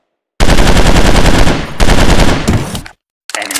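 Rapid automatic gunfire in a mobile shooting game on Android, two long loud bursts of fast repeated shots separated by a brief gap, then a shorter quieter burst after a moment of silence.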